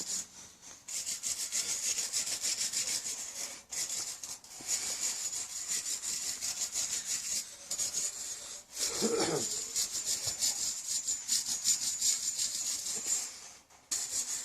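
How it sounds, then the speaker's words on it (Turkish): Steady, rhythmic scratching of sandpaper rubbed by hand back and forth on a metal bicycle frame, close up and continuous, with brief pauses between strokes. "Her fırça işlemi bittikten sonra zımpara yapacağız."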